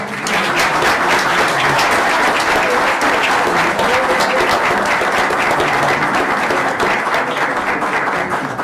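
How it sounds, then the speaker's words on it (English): A round of applause at a regular board meeting, a loud, steady burst of many hands clapping sustained for several seconds without pause. "Everyone's going to round of applause"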